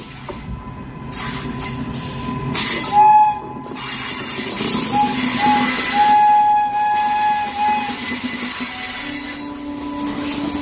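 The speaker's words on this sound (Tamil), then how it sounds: "சரக்கு ரயில் இன்றினால் வந்தே பாரத் ரயில் இழுத்துச் செல்லப்பட்ட வீடியோ வைரல்" A Vande Bharat train being towed by a freight train rolls slowly along the rails with a steady rumble, long wheel squeals and a brief horn-like tone rising over the clatter.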